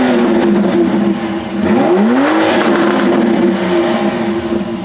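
In Sport Plus mode, a 2025 BMW X3 M50 with a four-exit exhaust idles and then blips its engine once, the rev rising sharply and settling back to a loud, close idle with no talking.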